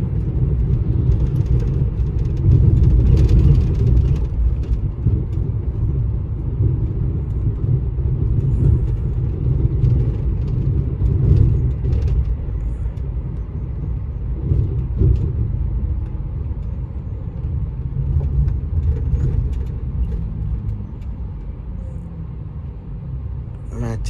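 A bus pulls back onto the road after refuelling with diesel at a highway rest area, giving a steady low engine rumble and road noise from inside the cabin throughout.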